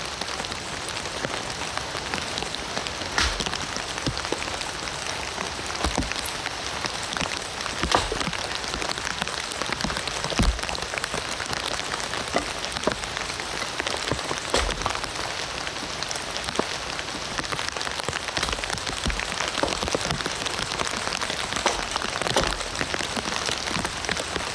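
Steady rain pattering on a camping tarp in the UK, a dense continuous hiss of drops with occasional heavier splats, close and constant throughout with no voices.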